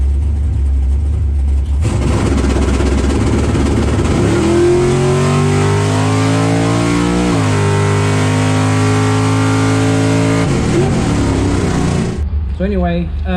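A drag race car roars loudly as it launches down the drag strip at a race, rising in pitch as it accelerates hard, then cuts off abruptly near the end.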